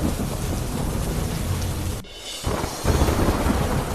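Heavy rain pouring down in Dwarka, a loud, dense, continuous roar of falling water that briefly thins midway before surging back, with no voices.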